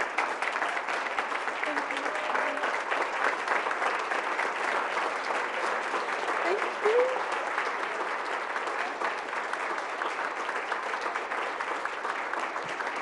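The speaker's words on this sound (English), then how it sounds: "so let's give her a round of applause" Sustained, even applause fills a room at a school district business meeting, a dense steady clatter of many hands with no pauses for the whole stretch.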